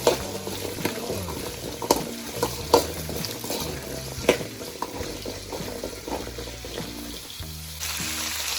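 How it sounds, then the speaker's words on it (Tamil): Small shallots fry in a couple of spoons of oil in a pan while a home cook makes a head-meat curry. A spoon scrapes and clinks against the pan now and then over a soft, steady sizzle, all at close range. "சின்ன வெங்காயத்தை போட்டு நல்லா வணக்கி எடுத்துக்கலாம். வறுத்து எடுக்கணும்."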